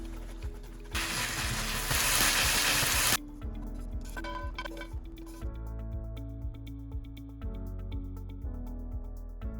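Leftover enoki mushrooms and vegetable scraps frying in a pan, a steady broadband sizzle that swells loudly for a couple of seconds, then settles into quieter crackling beneath light background music.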